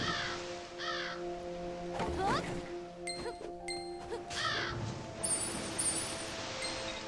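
Crows caw repeatedly in the action RPG The Vagrant, harsh calls recurring over steady ambient game sound, with a few sharp hits and crashes in between.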